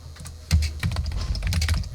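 Computer keyboard being typed on for a web search, a quick run of close, crisp key clicks at an uneven pace, with no talk over it.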